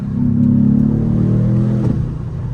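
An Aston Martin DBX S, a powerful 727-horsepower SUV, launches hard from a standstill, its engine roaring loud and close in a steady rising pull for about two seconds before easing off.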